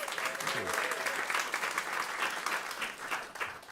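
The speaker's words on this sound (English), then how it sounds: "Give him another round of applause, please." A crowd claps steadily through a round of applause for a speaker at a farmland conference, continuous and fairly loud, with a brief voice heard briefly near the start.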